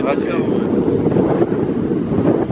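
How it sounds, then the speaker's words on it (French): Steady wind in Ireland buffeting the microphone, a continuous loud rumbling roar with a brief high whistle near the start. "le soleil est sorti, mais le vent est pas rentré par contre"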